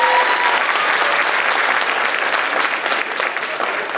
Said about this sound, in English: maybe we could give them a round of applause for all the work